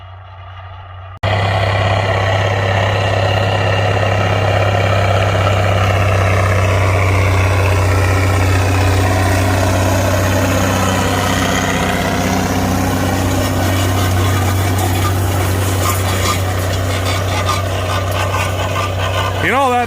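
A Versatile VT320 tractor engine runs steadily and loud close by, a deep constant drone with a strong low hum throughout, starting abruptly after a brief quiet moment; voices talk faintly under the engine noise.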